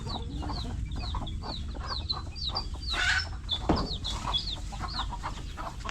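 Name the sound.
newly hatched chicks chirping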